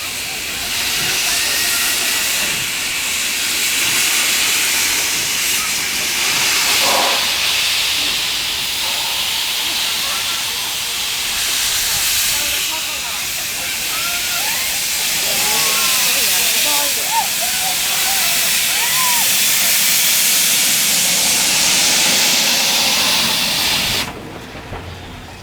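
Steady broadband hiss of a model steam locomotive at a model railway show, continuous and fairly loud as it begins moving, with faint crowd chatter and clatter underneath.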